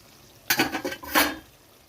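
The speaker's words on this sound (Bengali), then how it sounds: "চাপাটা নামিয়ে নিচ্ছি।" A lid lifted off a steaming pot of young drumsticks, potatoes and shrimp being steamed in a Bengali kitchen gives a brief metallic clatter followed by a second, louder scrape and clink, close by with no talk.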